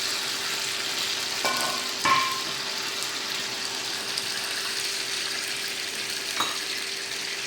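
Half a bowl of water hits hot oil tempering for dhokla, giving a steady, bright sizzle throughout with a few clinks and stirring knocks, close and continuous without talk.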